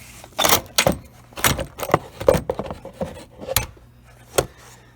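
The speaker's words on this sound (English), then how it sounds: "I can pull this whole air box out." An air box being pulled out of a Chrysler 300 V6 AWD engine bay, with a series of close plastic knocks, scrapes and rattles in uneven bursts.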